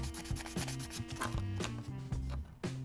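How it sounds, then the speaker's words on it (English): Steady back-and-forth rubbing strokes of sandpaper on 3D-printed plastic filament, close up and rhythmic, with no talking. "this stuff is sanding a little bit easier"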